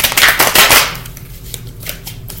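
A deck of tarot cards is shuffled during a reading, a burst of dense riffling clatter for about a second, then softer scattered card taps and slides, close and alone.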